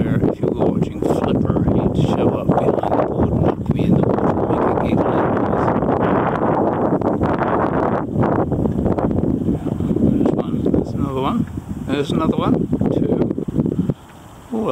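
Steady, loud wind buffets the microphone while a paddle board drifts on open water near shore, a constant roaring rush with faint water and rustling textures beneath.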